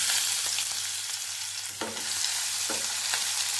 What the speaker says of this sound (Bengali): তেলটা গরম হয়ে গেলে আমি এর মধ্যে ছেড়ে দিচ্ছি আদা আর রসুন কুচি